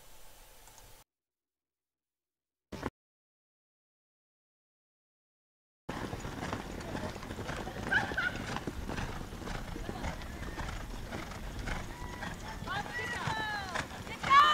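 Horses gallop across a polocrosse field with steady hoofbeat clatter and scattered field noise, starting after a near-silent opening with one brief click; a faint whinny may be heard. No speech is audible.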